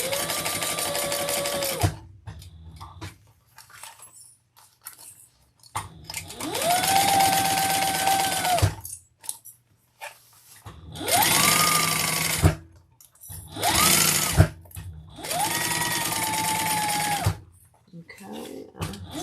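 A sewing machine top stitching leather runs in four long motor bursts with short gaps, whining loudly and close, with quiet handling noise and some talk in the pauses.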